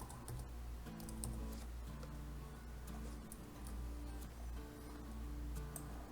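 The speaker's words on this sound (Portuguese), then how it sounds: "Então digitei as pré-condições para esse livro e agora eu vou para os passos." Typing on a computer keyboard, a steady run of quiet close key clicks with a faint background hum.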